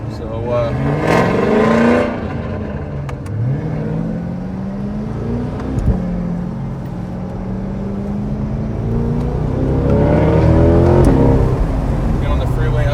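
A 2022 Corvette Z51 with the LT2 V8 accelerates on a test drive, its engine revving up through rising pitch sweeps and shifting gears, loud and close inside the cabin, with someone speaking over parts of it.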